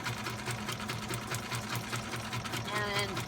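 Sewing machine runs a zigzag stitch through paper ribbon and a doily, a fast steady mechanical whirring and chatter close by with no break, ending in a faint higher squeak.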